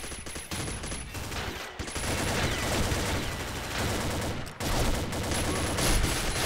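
Gunfire in the online shooter Combat Arms, dense rapid automatic bursts and overlapping shots rattling almost continuously, loud and close, with brief gaps between volleys.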